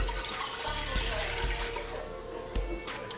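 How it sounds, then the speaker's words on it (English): Water pours into a cooking pot to boil for pineapple yellow rice, a steady close splashing rush that runs for a few seconds with small bumps and trickles as the stream shifts. "So I'm going to put 6 cups of water into our pot to boil."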